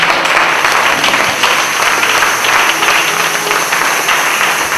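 A church congregation applauding the Lord in loud, steady, close applause that fills the whole stretch, with many hands clapping together and no pauses.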